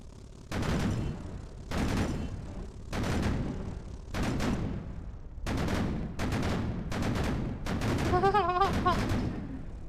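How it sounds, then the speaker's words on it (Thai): A Type 76 SPAAG anti-aircraft gun in a video game fires roughly eight loud, separate bursts of rapid shots at even intervals, each a sharp thumping volley, close and dominant, with a short ringing tone near the end. "และยิงไม่ตรงเลยนะเป้าอ่ะ"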